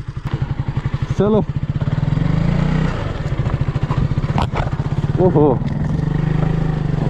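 A KTM motorcycle on a slippery Spiti Valley mountain road chugs with a loud, rhythmic thumping engine beat up close, while people shout briefly over it.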